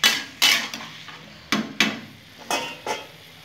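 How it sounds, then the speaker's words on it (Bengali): A chickpea and taro curry being stir-fried in a pan, a metal spoon scraping and knocking against the pan in repeated loud strokes at an uneven pace, close up and without speech. "ভালো করে এখন আমি এটা কষে নেব।"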